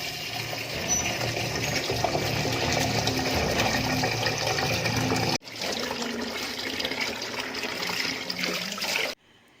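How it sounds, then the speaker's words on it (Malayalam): Star gooseberries being rinsed in water for salt pickling, a steady running, splashing wash that fills most of the clip, breaks off briefly, resumes and then stops. "ആദ്യം തന്നെ അരിനെല്ലിക്ക ഒന്ന് കഴുകിയെടുക്കാം"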